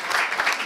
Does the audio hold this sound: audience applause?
yes